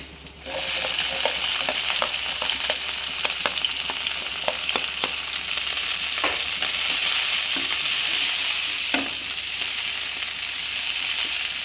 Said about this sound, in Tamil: நல்லா ஃப்ரை பண்ணுங்கள்